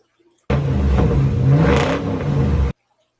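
A car engine revs hard for about two seconds, a loud close roar that rises and dips slightly before cutting off abruptly, surrounded by near silence.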